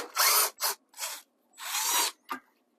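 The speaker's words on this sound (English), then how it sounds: "So I'll just get in here and remove the screws" Power drill backing screws out of a tankless water heater during installation, five short whirring bursts of varying length separated by silence, close and clear.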